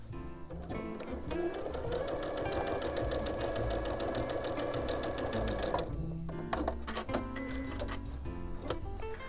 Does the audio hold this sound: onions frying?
no